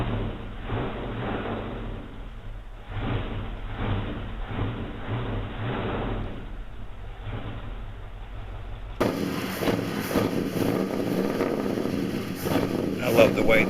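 An old carbureted car engine idles through its original exhaust with no catalytic converters, a steady, throaty, rough burble heard close up that grows a little louder and harsher toward the end.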